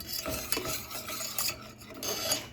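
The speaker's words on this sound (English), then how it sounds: "You have to keep stirring and stirring it." A spoon scraping and stirring a sweet mixture in a pan, soft rasping strokes repeating irregularly, close and fairly quiet with no voices.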